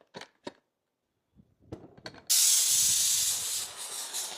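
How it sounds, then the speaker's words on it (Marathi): A pressure cooker with dal inside hisses loudly, a sudden close burst of steam that holds steady after a few soft kitchen knocks and taps. "आपण आता डाळ प्रेशर कुकर मध्ये 2 शिट्ट्या करून घेऊ"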